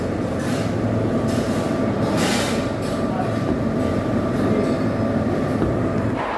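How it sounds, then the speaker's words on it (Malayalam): Suburban train at a station in Villivakkam, Chennai, a steady loud rumble of rolling coaches and wheels with brief brighter hissing bursts, continuous throughout with a faint murmur of people in the background. "ഞാൻ അങ്ങനെ സബർമൻ ട്രെയിൻ സ്റ്റേഷനിൽ എത്തിയിരിക്കുകയാണ്."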